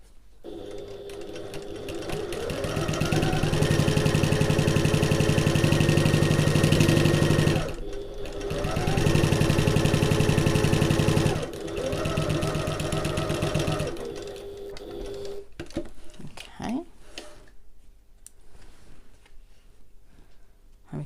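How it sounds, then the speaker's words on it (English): Sewing machine running a regular construction stitch along a backpack's bottom edge, loud bursts of rapid mechanical whirring and clatter in three runs with brief pauses, then stopping into quiet handling noises. "I'm going to sew this using our regular construction stitch length."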